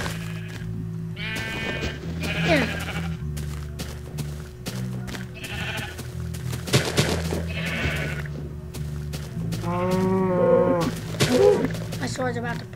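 Sheep in the Minecraft video game bleat several times at a survival server farm, short synthetic bleats recurring every second or two alongside game sounds, with players talking over them.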